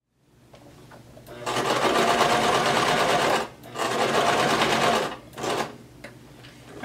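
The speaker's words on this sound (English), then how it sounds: "go ahead and start sewing and backstitch and sew all the way around until you get to your stopping pin" A sewing machine stitches around the waistband casing of a denim skirt in close, loud bursts: a long run, a brief pause, a second run, then two short spurts. Each run is a dense, rapid mechanical whirr.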